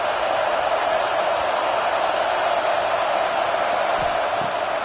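A stadium crowd in a college football video game, Ohio State at Texas, roars steadily behind the defense on a big third down: a dense, unbroken wash of cheering that holds at an even level throughout.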